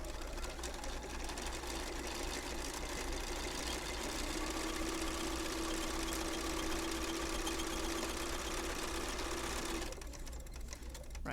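A sewing machine back-stitches at the corner cutout of a zipper bag, running in a steady, dense mechanical hum that stays close and loud almost throughout, then cuts off near the end.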